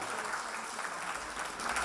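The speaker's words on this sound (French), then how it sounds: "maximum d'applaudissements pour Doudou encore une fois" A comedy club audience gives steady, dense applause for a comedian named Doudou, a continuous wash of many hands clapping at even loudness throughout.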